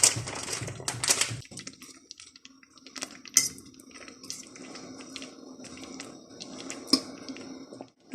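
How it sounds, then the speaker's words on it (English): Meatballs tumbling into a pot in a home kitchen, with a few clinking pot and utensil knocks and soft thuds, fairly close and moderately loud, followed by quieter stirring and shuffling with no talking. "So let me go ahead and add these meatballs in."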